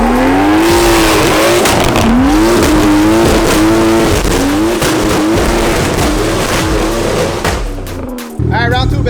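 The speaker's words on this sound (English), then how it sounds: "Now it was time for a proper burnout." Single turbo BMW 335i doing a burnout, the engine held at loud high revs with rising and falling pitch as tires squeal, close and continuous, cutting off abruptly near the end, with voices talking over it.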